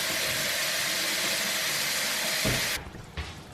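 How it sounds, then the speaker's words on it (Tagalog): Water in a pot on the stove, heated to a boil for cooking spaghetti, gives a loud, steady hiss and rush that breaks off near the end into quieter bubbling. "So, yung water, kumukulo na."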